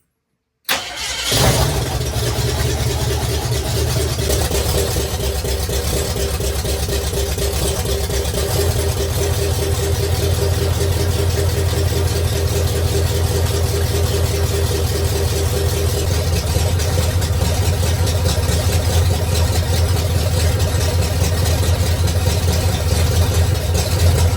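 A 1985 Jeep CJ7 engine, fed by its mechanical fuel pump, cranks and catches, then settles into a steady, loud, close idle with a low rumbling drone for the rest of the time, no talking.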